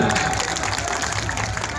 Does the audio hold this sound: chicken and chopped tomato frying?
no